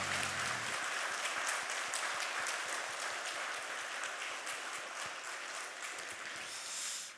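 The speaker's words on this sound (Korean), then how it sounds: "우리 힘차게 박수하도록 하겠습니다" A Sunday church congregation claps vigorously together, sustained dense applause filling the sanctuary for several seconds before cutting off.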